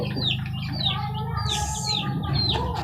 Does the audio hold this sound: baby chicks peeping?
yes